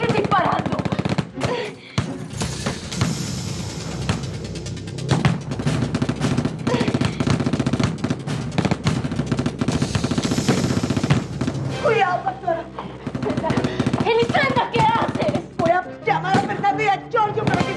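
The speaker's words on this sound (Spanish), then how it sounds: "¿Pero por qué sigues disparando?" Repeated gunfire in a tense telenovela scene, a dense run of loud shots and bursts across most of the stretch, with raised voices mixed in and continuing over the shooting.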